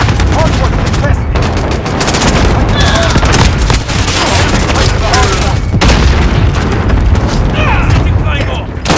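Heavy booms and crackling gunfire fill a Call of Duty: Modern Warfare multiplayer match on PS5, with repeated loud grenade blasts layered over near-constant automatic weapon fire.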